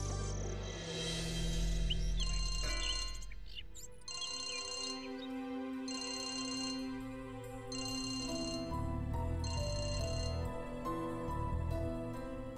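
A phone ringtone plays a repeating electronic melody in evenly spaced bursts during a TV drama episode, steady and clear, with music underneath and no talking.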